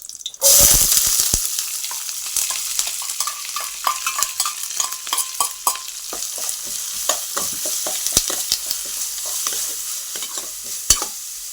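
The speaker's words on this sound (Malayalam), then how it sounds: "ചതച്ച് വെച്ചിരിക്കുന്ന വെളുത്തുള്ളി ഇഞ്ചി പച്ചമുളക് കൊച്ചുള്ളി നമ്മുടെ തേങ്ങ ചെറുതായിട്ട് അരിഞ്ഞത് അതും കൂടി നമുക്ക് ഇതിലിട്ട് നല്ലപോലെ മിക്സ് ചെയ്തെടുക്കാം" Crushed garlic, ginger, green chili, shallots and chopped coconut stir-fried in a pan for beef roast, a close crackling sizzle broken by repeated spoon scrapes and clacks, with a brief louder burst at the start.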